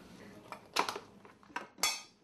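Bowls and dishes clatter and clink in a few sharp knocks at close range while dinner is being prepared at home.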